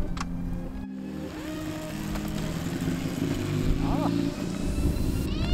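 A motorcycle engine runs close by and revs up through a gear change from first into second, with a person's brief exclamation over the steady engine noise.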